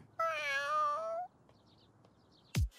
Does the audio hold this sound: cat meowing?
yes